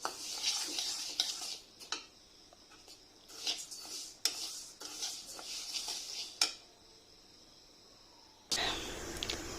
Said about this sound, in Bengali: আমি প্রথমে মুগ ডালটা হালকা করে একটু ভেজে নিচ্ছি।